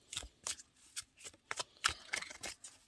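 A tarot deck is shuffled by hand in short, crisp riffles and taps, about eight quick bursts close to the listener in a quiet room.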